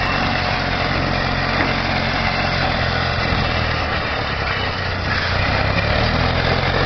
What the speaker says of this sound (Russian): Двигатель от СК-12.